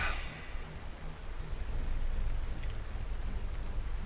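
Steady rain pours down in the World War II strategy game Panzer Corps 2, a dense continuous hiss with a low rumble underneath, no voices.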